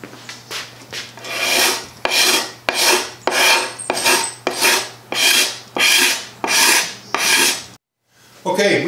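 Repeated scraping of old paint off the wooden shelf of a Lane Acclaim table, about a dozen close, loud rasping strokes in a steady rhythm, then a brief pause and a final stroke.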